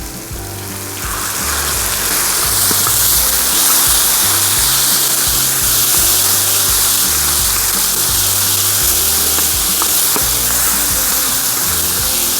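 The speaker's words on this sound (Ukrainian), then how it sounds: "Додамо трішки води, щоб наші овочі трішки протушкувалися." Water is poured into shakshuka vegetables cooking in a pan over an open fire outdoors, giving a steady loud hiss and sizzle that lasts throughout, with no voices.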